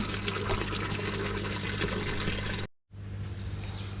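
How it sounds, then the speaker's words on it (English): Pond filter water drains steadily into a bucket at a koi pond, a continuous close splashing pour that cuts out briefly and then resumes more softly. "So I'll drain this water off quick and come back here."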